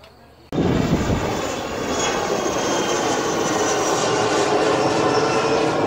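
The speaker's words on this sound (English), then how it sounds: "Airplanes are just taking off right from BWI" Airplane taking off from BWI airport, heard from a nearby playground park as a loud, sustained jet roar that kicks in abruptly and holds steady with broad rumbling and whining engine noise.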